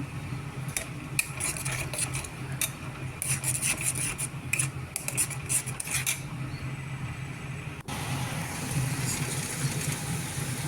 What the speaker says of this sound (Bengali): তো এটা দেওয়ার পর একটু ভালো করে নাড়তে হবে, যেহেতু সব কাঁচা মশলা আছে। ভালো করে কষে নেব।